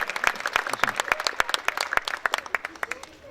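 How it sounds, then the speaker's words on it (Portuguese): Audience applause at a literary festival panel: a steady patter of many handclaps at first, thinning into fewer, separate claps and fading toward the end. "Vamos bater mais palmas para o Paulo Henrique dos Santos."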